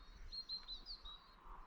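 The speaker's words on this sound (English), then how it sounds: "the birds are singing" Dawn chorus of birds on Dartmoor: a few quick, high, thin chirps in a short rapid series, faint and a little distant over low background hiss.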